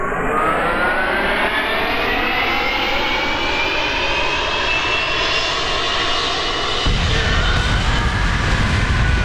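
Aircraft engine at full throttle on a custom-built plane in Kerbal Space Program, a loud continuous roar with a rising whine that swells steadily, then shifts abruptly to a heavier, rougher rumble near the end, with no talk.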